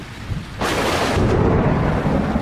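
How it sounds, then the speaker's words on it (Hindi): Thunder rumbles suddenly and loudly over a steady downpour of rain during a storm, the heavy roar swelling and then holding on for a sustained stretch. "बारिश रुकने का नाम नहीं ले रही थी।"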